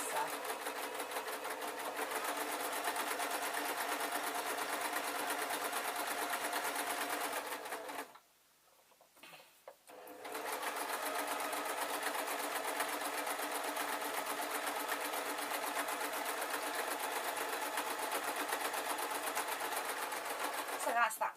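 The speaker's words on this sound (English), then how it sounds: "and then I'm just going to sew this together" A sewing machine stitching a beaded clutch bag runs in a fast, even mechanical whir, loud and close, stops for about two seconds, then resumes at the same steady pace.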